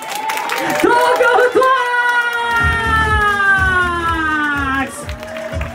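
A crowd claps, cheers and whoops to vote for the dance team Next Terminal in a 2019 Tokyo team dance battle against Tokyo Footworkz. The noise swells from the middle of the clip onward, and a voice rings out loudly over it.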